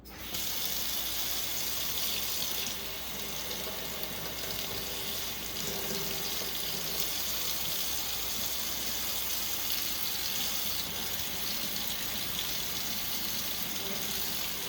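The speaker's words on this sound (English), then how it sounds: "Then I turn the water on and wash the residual soap out." Tap water runs steadily into a sink while soap is rinsed out of a bassoon bocal, making a continuous hissing splash that keeps the same level throughout with no voices.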